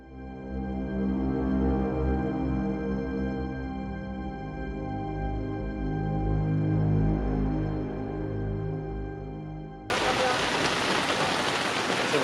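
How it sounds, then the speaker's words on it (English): Steady rain patters beneath a droning musical tone for most of the stretch at an Ironman race in the Philippines, then a louder, brighter wash of rainfall takes over near the end. "it's okay to race in the rain"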